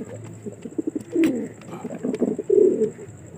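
Pigeons coo close by in a few soft, throaty, rolling phrases, with quieter low murmurs and faint background clicks between them.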